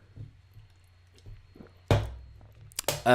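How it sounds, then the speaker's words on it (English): A quick sip of a sparkling lemon and lime drink, close to the microphone: quiet moments, then a sharp slurp and a wet swallow, followed by another brief burst of sipping near the end. "let me know in the chat while I just take a little quick drink of my innocent bubbles, sparkling lemon and lime flavor"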